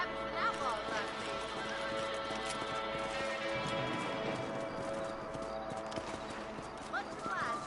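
Horse hooves clip-clop steadily in Red Dead Redemption, faint and rhythmic beneath a music bed and talking voices, with a couple of brief whinnies.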